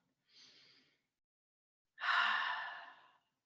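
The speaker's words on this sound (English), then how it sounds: "One more time, exhale out your mouth." Two slow, breathy exhalations through the mouth, a short soft one and then a longer, louder one, heard close up in a quiet room.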